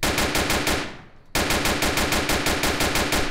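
Rapid sniper gunfire in a Roblox police game set in Hamburg, a loud continuous stream of sharp shots that cuts out briefly, then resumes just as dense and fast, with no talking.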